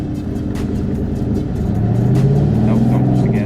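A 2003 Ford Mustang GT with a manual gearbox pulls away, its engine a steady low rumble that swells as it gains revs, close and continuous, with a voice speaking over it.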